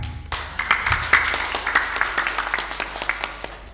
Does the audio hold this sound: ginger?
no